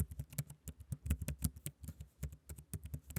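Quick, irregular clicks of fingers typing a terminal command on a computer keyboard, close and fairly quiet, with short pauses between bursts of keystrokes and no voices.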